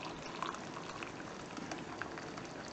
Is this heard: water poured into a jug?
yes